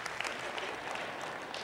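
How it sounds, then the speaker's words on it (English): Members of a church congregation clap in a sustained, even wash of applause, with a few sharper claps standing out near the start and end and no voices on top. "clap, go ahead"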